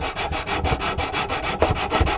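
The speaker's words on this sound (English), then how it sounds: "simply come in with your sanding stick and just make sure it comes together all nice and smooth" Close, brisk sanding of wood with a sanding stick on a 1/84 scale HMS Victory model: quick, even back-and-forth rubbing strokes in a steady rhythm, with no voices.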